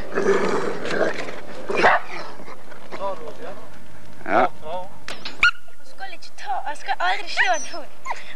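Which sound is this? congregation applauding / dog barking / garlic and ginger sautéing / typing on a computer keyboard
dog barking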